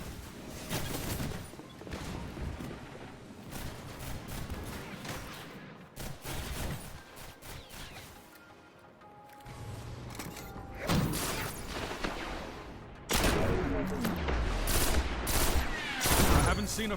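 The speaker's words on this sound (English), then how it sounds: "I haven't seen a firefight like that since Twilight Gap" Dense gunfire firefight in Destiny PvP, with an exotic weapon in use: rapid overlapping shots and bursts that run almost continuously, loud and close, building to heavier volleys near the end.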